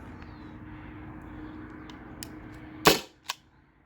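A Byrna SD launcher powered by a 12 gram CO2 cartridge fires one sharp, loud pop over a steady low hum, followed by a fainter click a moment later.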